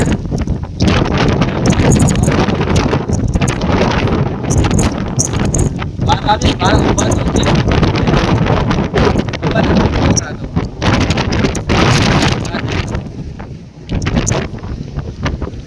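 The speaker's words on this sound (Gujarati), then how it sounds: "બહાર એટલો પવન છે" Strong gusting wind buffets the microphone in heavy, roaring bursts, while people talk loudly over it.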